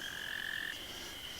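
Frogs croak near a pond at night, a high, sustained trilling chorus with two overlapping callers, one dropping out halfway while the other carries on, faint and alone over quiet background.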